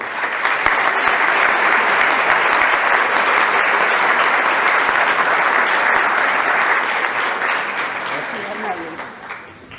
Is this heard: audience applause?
yes